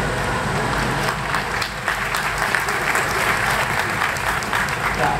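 A crowd at a Kawasaki Frontale football club fan appreciation day claps continuously in a dense, lively burst of applause, with faint voices mixed in underneath.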